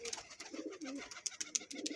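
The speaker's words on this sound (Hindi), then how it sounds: "इस छत के ऊपर एक कबूतर बैठा हुआ है" A pigeon perched on a rooftop coos softly nearby, low throaty murmurs mixed with light flutters and faint clicks.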